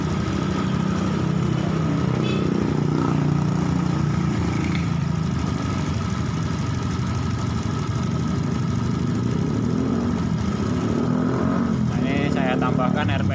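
Honda Beat scooter engine idles with unstable RPM, a steady close mechanical drone with slight wavering, while someone talks over it throughout.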